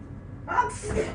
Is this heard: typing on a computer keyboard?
no